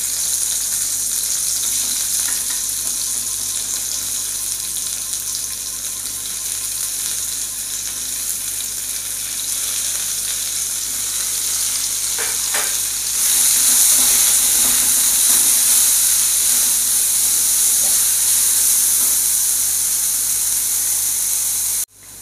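Salted, washed bitter gourd sautéing in coconut oil for a Kerala tamarind curry, a loud, dense, continuous sizzle that swells slightly partway through and cuts off abruptly at the end.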